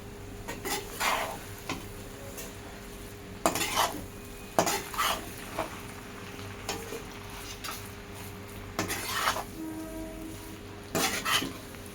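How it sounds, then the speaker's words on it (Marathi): Veg noodles with spring onions stirred and tossed in a pan, with repeated metallic scrapes and clinks of a utensil against the pan in irregular bursts over a faint steady sizzle. "आणि यामध्ये कांद्याची पात सुद्धा टाकून घेऊया आणि चांगलं सॉटे करून घेऊया."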